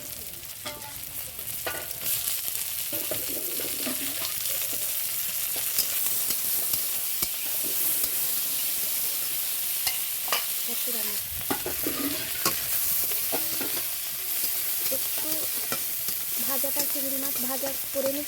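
Shrimp sizzle in hot oil in a pan with cut potato, onion and green chili, a steady loud frying hiss broken by occasional stirring scrapes and clinks throughout.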